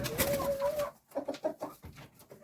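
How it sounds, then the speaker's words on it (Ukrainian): Chickens clucking and a rooster calling nearby, with a sustained call at first, then a run of short clucks. "Хочу вам показати наш півник разом з своїми курочками."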